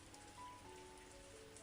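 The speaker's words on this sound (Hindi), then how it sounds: "भीगता हुआ शहर, उस पर बरसती बारिश की मोती जैसी बूंदें।" Rain falls steadily over a city, a soft, even hiss of drops on surfaces that stays faint and unbroken throughout, with no voices.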